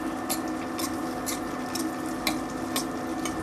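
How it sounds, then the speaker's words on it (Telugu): Chana dal, cumin, mustard seeds and asafoetida frying in oil in a pan, a soft steady sizzle under a constant hum, broken by regular crackling spatters about every half second. "అలాగే 2 ఎండుమిరపకాయలు మరియు కొద్దిగా కరివేపాకుని వేసుకుని తాలింపు అంతా బాగా ఫ్రై చేసుకోవాలి"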